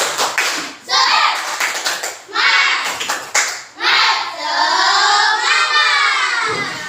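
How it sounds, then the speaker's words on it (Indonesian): Children in an Indonesian classroom perform the 'tepuk semangat' spirit clap, several bursts of rhythmic group clapping mixed with chanted young voices, loud and close, separated by short pauses. "Tepuk semangat"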